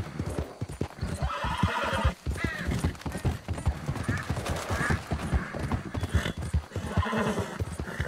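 Horse hooves clip-clopping in a fast, steady rhythm in Red Dead Redemption 2, with several loud neighs and whinnies breaking through close by.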